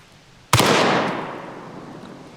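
A single loud, close shotgun blast from a Beretta 1301 tactical shotgun with a full magazine tube, a sharp crack followed by a long decaying outdoor tail.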